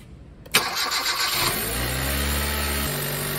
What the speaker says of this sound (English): I'm gonna start the engine to see what sort of waveform we can get.